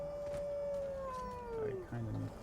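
A dog in the video game Skyrim gives a single long howl that slowly glides downward in pitch, moderately loud, followed by shorter low tonal yelps.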